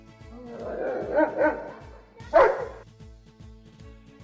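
A dog barks close by in a couple of short bursts and yips, while a steady rhythmic pulsing continues underneath throughout.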